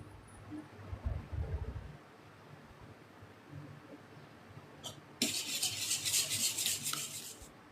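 A utensil scrapes and rubs against a bowl in short bursts as thick burnt-sugar cake batter is stirred by hand, followed by a loud, hissing rush.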